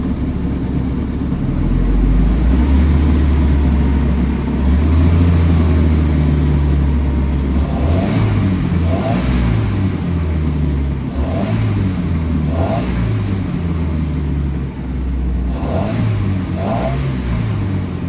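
A 2008 Bayliner 185 boat engine idles with a deep rumble, then revs up in several short bursts, each rising and falling back, loud and close.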